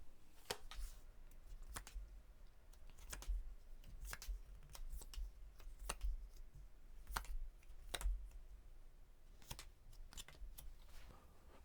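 Tarot cards are shuffled and drawn in a quiet room, with scattered crisp snaps and soft flicks and light rustling between them at an irregular pace, close up and with no one talking.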